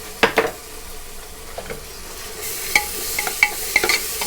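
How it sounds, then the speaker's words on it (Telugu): Ginger garlic paste fries in a pan, a continuous close sizzle broken by a few sharp clicks and scrapes of a spoon stirring against the metal. "దీన్ని బాగా ఎర్రగా వచ్చిందాక ఫ్రై చేసుకుందాం."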